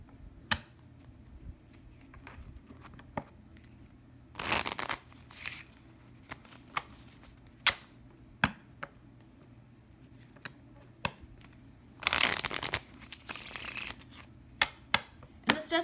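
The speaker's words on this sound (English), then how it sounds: "let's get a few cards for clarification from Sailor Jerry." Tarot cards shuffled and handled near the mic over about sixteen seconds, with bursts of riffling around the fifth and twelfth seconds and scattered sharp card taps and snaps between them against a quiet background.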